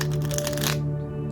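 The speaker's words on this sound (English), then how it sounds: "I'm shuffling the cards" Tarot cards being shuffled by hand, a dense crackling riffle lasting under a second, close and fairly loud, then fading to quiet.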